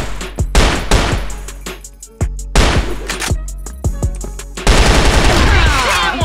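Rapid bursts of QBZ rifle fire in a first-person shooter, loud and close, several short volleys with brief gaps, then a denser sustained stretch of shots near the end.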